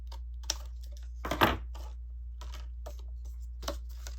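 Card stock for a junk journal being cut with a few short snips and crisp clicks against a faint steady hum, one louder cut near the middle, with no talking.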